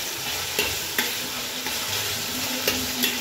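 Curry leaves sizzling in hot tempering for masala rice, a loud bright continuous crackle broken by sharp spatters and stirring knocks at irregular intervals.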